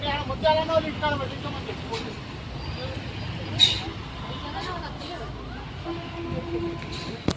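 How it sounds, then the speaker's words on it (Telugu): A bus pulls away on a road toward Komuravelli, its low engine rumble steady under general traffic noise, with a brief hiss or clatter midway and faint background voices. "బస్సు బయలుదేరింది."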